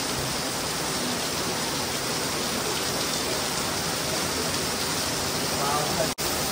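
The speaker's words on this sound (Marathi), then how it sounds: "काही पाऊस एवढा खतरनाक पडतोय बाहेर" Heavy rain pours steadily outside in a dense, unbroken hiss that stays loud and even throughout, with a brief dropout near the end.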